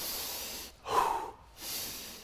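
Fast, heavy breathwork breathing at close range: a forceful hissing exhale, a quick sharp snort-like inhale, then another rushing breath, all in quick rhythm with no talking.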